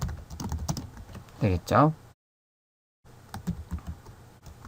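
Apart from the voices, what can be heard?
typing numbers on a computer keyboard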